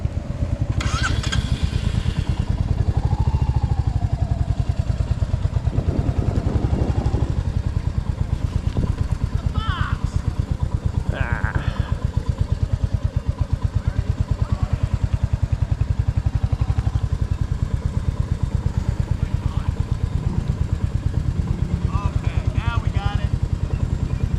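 Motorcycle engine on a training range during an MSF riding course, running steadily throughout with occasional revving, close and loud, while an instructor talks over it and a brief clatter comes near the start.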